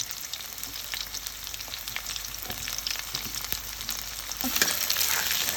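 Cauliflower popcorn pieces frying in hot oil, a dense, continuous crackling sizzle close by that swells slightly near the end.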